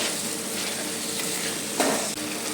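Ground spices cooking in a pot with beaten sour yogurt and a little sugar for a Bengali-style potato and cauliflower dum curry, giving a steady close sizzle with faint stirring scrapes and one brief louder clink.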